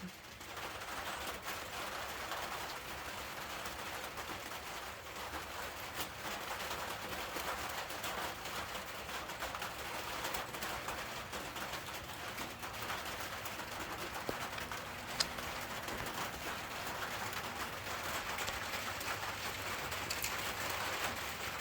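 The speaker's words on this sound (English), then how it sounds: "it's really starting to rain, and I know some people don't like the rain" Steady rain falls outdoors, a continuous broadband hiss with scattered drop impacts that holds at an even level throughout, with a faint low tonal hum in the background.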